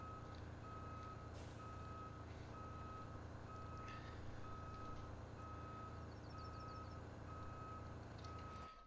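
A tow truck fitted with a winch, reversing in the Road Craft video game: a steady, evenly spaced reversing beep repeats over a constant heavy engine drone, with no talking.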